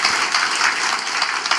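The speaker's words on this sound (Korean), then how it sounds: "하나님께 한번 영광의 박수 돌릴까요?" A church congregation claps together at a Sunday worship service, a loud, dense and even wash of many hands that holds steady throughout with no talking over it.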